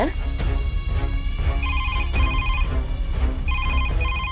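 A telephone rings with repeated electronic tones in a Tamil TV serial scene, heard under a dense music and sound-effects bed that continues throughout.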